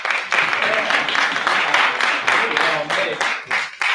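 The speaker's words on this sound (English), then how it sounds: "a round of applause for this outfit" An audience at a variety show claps in a dense, fairly loud patter that comes in uneven waves, with voices mixed into the applause.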